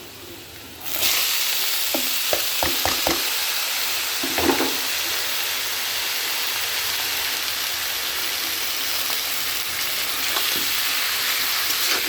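Fried potatoes hit a hot pan and keep up a steady, loud sizzle, with a few scraping stirs early on and no voices, while cooking a Bangladeshi egg-and-lentil dish.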